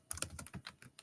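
Quick run of computer keyboard keystrokes, about seven or eight close, crisp clicks in an uneven rhythm over one second, with no voices.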